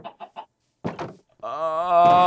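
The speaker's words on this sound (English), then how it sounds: "there's ghost chickens laying eggs" Chickens in a Minecraft-style video game laying eggs, with short clucks in quick succession followed by a louder drawn-out squawk toward the end, close and clear.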